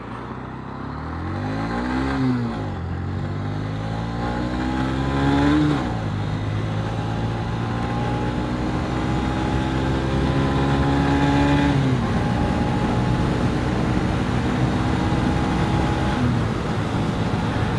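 A 2023 Honda CB125F motorcycle, derestricted with performance upgrades, accelerates hard through its gears, the engine note rising sharply in repeated pulls with quick dips at each shift, loud and close throughout.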